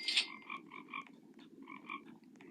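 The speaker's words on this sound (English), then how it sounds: "I want to know where that frog noise is coming from." A frog in the Bee Swarm Simulator video game croaks in a quiet series of short, evenly paced croaks over a soft background hum.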